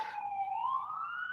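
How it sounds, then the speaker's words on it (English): A police-style siren wails outside, a single rising and falling tone drifting slowly upward in pitch as it passes, fairly faint and distant with no other sound over it. "Excuse the sirens."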